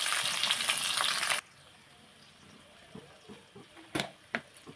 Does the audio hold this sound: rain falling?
no